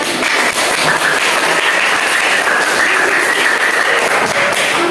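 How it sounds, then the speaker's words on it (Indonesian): Applause for a student group in a primary school classroom: dense, steady clapping from many hands fills the room, loud and close, with no talking. "tepuk tangan untuk kelompok 4"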